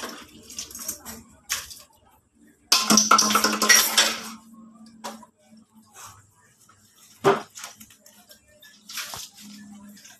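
Plates are washed with soap at a sink: water runs and splashes, with scattered clinks and rubbing at close range and a louder splash partway through, while faint voices sound now and then.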